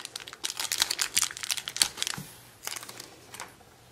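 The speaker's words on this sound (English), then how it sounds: "So we're gonna go ahead and cut them both open together." Plastic pudding-pack cases holding Shopkins toys are cut open, giving close, irregular crinkling and snipping bursts that crowd the first two seconds, then fewer, softer crackles toward the end.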